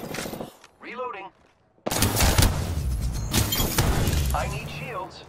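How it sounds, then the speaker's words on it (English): Enemy gunfire in the battle royale shooter Apex Legends, with dense bursts of rapid shots rattling loudly through most of the span after a short quiet gap, mixed with game effects and a brief voice. "The enemy are shooting at me"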